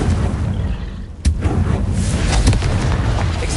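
A Confringo fire spell explodes during a Hogwarts Legacy battle, one sharp loud blast followed by a rumbling, crackling roar, with scattered smaller pops on a dense, noisy background.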